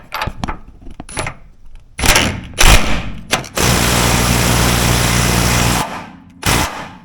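Ratcheting on the rear shock bolt of a 4th Gen RAM truck, a burst of rapid mechanical clicks after a few sharp knocks and clanks, close and loud, with no talk.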